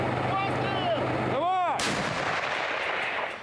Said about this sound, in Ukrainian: Осколкові фугасні снаряди летять у темряву.